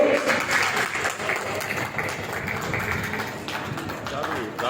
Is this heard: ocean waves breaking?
no